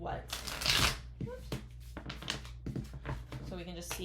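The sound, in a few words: shuffling and pulling tarot love cards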